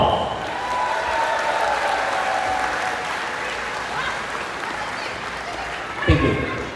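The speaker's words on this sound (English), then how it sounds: "please give our dear friends of Tibet a big round of applause" An audience at a birthday celebration for the Dalai Lama gives a big round of applause for friends of Tibet, dense hall-wide clapping holding steady for several seconds before tapering off.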